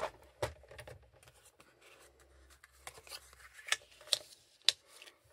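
Scissors trim off paper for a ribbon caddy, with a few close, crisp snips and soft paper rustling between them.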